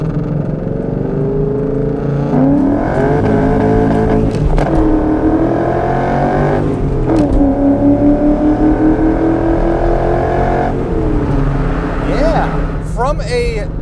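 2002 Ford Mustang GT with a 4.6 V8, Trick Flow heads and five-speed manual, accelerating hard from inside the cabin, engine note climbing through gears with shift dips, loud and close under someone talking.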